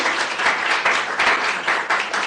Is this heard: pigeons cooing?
no